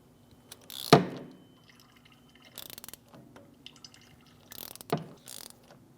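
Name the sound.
caliper pushback tool screwing back a Mitsubishi Outlander brake caliper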